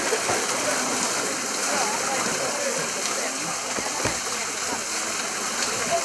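Water pouring from a spring-fed waterfall outdoors, a steady broadband rush that stays loud and even throughout with no pauses.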